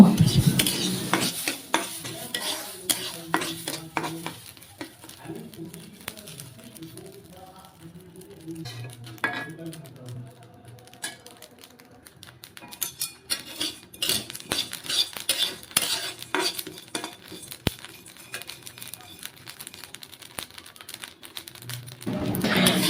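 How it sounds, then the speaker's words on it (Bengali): Soaked rice frying in a hot wok, with dense rapid scraping and rattling of grains and a metal spatula against the pan, close and busy, easing off in the middle before picking up again; no talking. "দেব ভিজিয়ে রাখা চাল, 2 মিনিটের মতো ভেজে নিব।"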